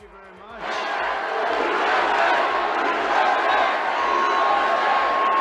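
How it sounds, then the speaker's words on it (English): A large crowd cheers and roars at a CPAC political rally, rising sharply after a brief quieter opening and staying loud and sustained throughout. "A lot of enthusiasm in the crowd."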